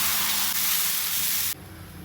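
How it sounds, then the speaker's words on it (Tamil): A dosa sizzles on a hot pan, a loud, close, steady hiss that falls abruptly to a quieter sizzle near the end. "தோசை கேட்டல தோசை சுட்டுக்கிட்டு இருக்கேன்."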